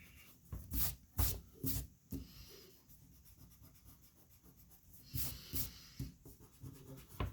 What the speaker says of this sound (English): erase any pencil lines that are peeking out from underneath